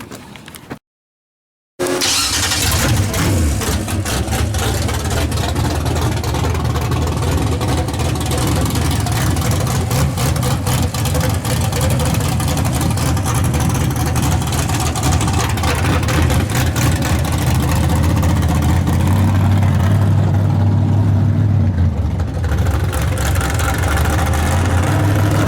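A Chevrolet S10 truck engine with the exhaust baffles off, starting after a brief silence and running loud and deep with a rough, rumbling idle that swells in a heavy rev near the end.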